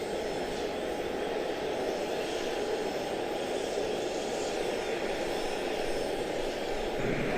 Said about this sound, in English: Yes, that was a super smooth touchdown.